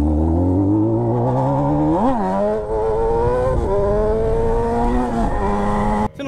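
A Honda CB1000 motorcycle's engine revs loudly through its exhaust, holding a steady high drone with a sharp rev blip early on and pitch shifts later, close up with no talk.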